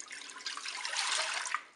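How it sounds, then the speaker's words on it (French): Milk poured into the pot of a Cookeo multicooker, a brief steady liquid splash and trickle, close and fairly soft, alone. "On verse le lait dans la cuve."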